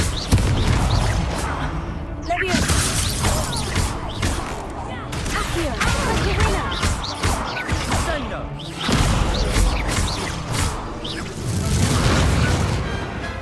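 Confringo blasting curse explosions in Hogwarts Legacy, a loud burst near two seconds and another near nine, amid dense combat effects and music throughout.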